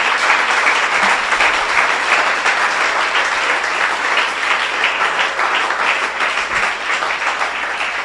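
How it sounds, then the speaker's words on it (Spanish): A church congregation applauds during a Spanish-language sermon, producing dense, steady clapping from many hands that fills the room evenly for about eight seconds. "Ahora sí le puedes dar un aplauso a Cristo."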